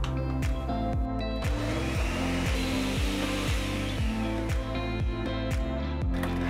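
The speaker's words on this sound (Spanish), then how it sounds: "Y ahora sí, vamos a licuar." Blender motor running steadily and loud, blending tomato and garlic salsa with spices and salt, a continuous whirring drone with pulsing, rhythmic churning as the contents circulate, no talking.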